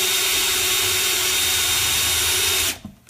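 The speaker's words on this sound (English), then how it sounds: "I'm simply gonna take my drill again and pre-drill holes" A power drill whines steadily and loudly up close while pre-drilling screw holes for a DIY silverware holder, then cuts off and winds down, followed by a light knock.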